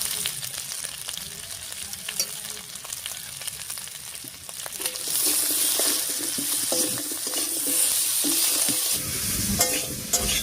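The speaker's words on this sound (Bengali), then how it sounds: "লবণ হলুদ দিয়ে মিশিয়ে একটু ভাজা ভাজা মতো করে নিয়েছি" Boiled potato pieces with salt and turmeric sizzle steadily in a hot pan while a utensil stirs and scrapes, the frying growing louder and fuller partway through.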